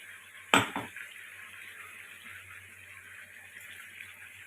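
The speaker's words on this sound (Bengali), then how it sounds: "চিকেনটা একটু ফ্রাই হয়ে এসছে, এতে চিকেনের কাঁচা গন্ধটা চলে যাবে। এবার এই পেস্টটা এর মধ্যে দিয়ে দেবো।" Chili and onion paste dropped into chicken frying in a pan: a sharp clatter and splat near the start, then a steady soft sizzle that continues quietly to the end, with no talking.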